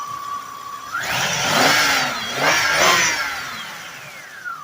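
A 1997 Buick Skylark's 3100 V6 engine runs close by, revving up twice in smooth swells from a steady idle with a faint high alternator whine, no one speaking.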